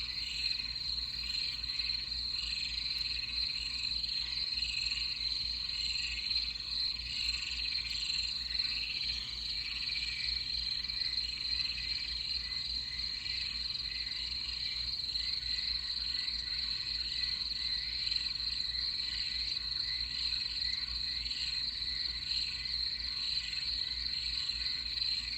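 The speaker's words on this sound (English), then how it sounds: "I heard like some crickets or some kind of insects" Crickets chirp steadily beside a pond, a dense high continuous trill with faint frog croaks underneath, even and unbroken for the whole stretch, quiet and distant-sounding with no voices.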